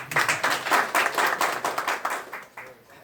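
A crowd claps at a BJP leader's political speech and welcome event, a dense burst of steady applause with distinct hand claps, fairly loud and close, tapering off toward the end.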